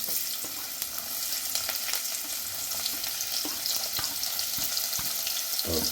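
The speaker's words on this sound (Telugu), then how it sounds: "ఇది చక్కగా లైట్ బ్రౌన్ కలర్ వచ్చే వరకు వేగనిద్దాం" Chopped onion and a bay leaf frying in a pan, a continuous close hiss of oil with occasional stirring knocks and scrapes, no talk.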